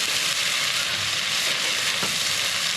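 Picanha, a beef top sirloin cap, sizzles steadily in a hot pan, a dense continuous frying hiss held close and loud throughout with no talking.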